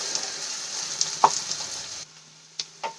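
Vegetables sautéing in a pan for a Maggi snack, a soft steady sizzle with a few clicks of a spoon against the pan, then quieter frying with two brief scraping stirs.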